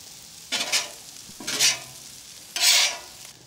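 Fajita vegetables cook on a hot griddle, with three distinct bursts of loud sizzling as they are stirred or turned and quieter pauses between them.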